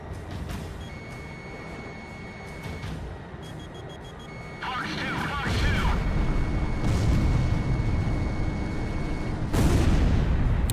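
An air-combat game's missile strike on an enemy jet lands as a booming burst that swells after a steady lock-on tone and beeps, with a louder blast later, while someone talks over the action.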